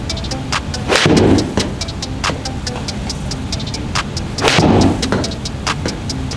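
A golf club strikes a golf ball twice, each a sharp, loud crack, while lighter clicking impacts tick away steadily in the background.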